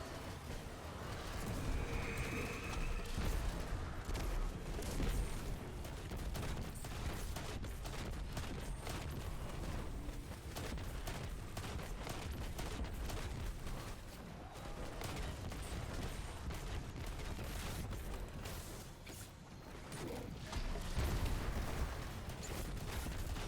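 Continuous heavy gunfire and explosive blasts from the Edge Transit grenade launcher in Destiny, with a dense, unbroken barrage of booming shots and rumbling impacts that stays steady and loud throughout.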